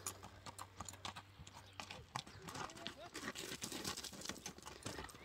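A horse walks with hooves clip-clopping in a steady, fairly close rhythm, mixed with background chatter and rustling noise.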